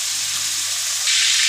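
Shrimp rubbed with salt and turmeric fry in hot oil with a loud, steady sizzle that swells a little brighter partway through, with no voices.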